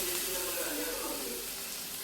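Spice paste stirred into liquid is poured into a hot pan of Onam-style ginger curry, giving a steady, close hiss and sizzle that lasts throughout.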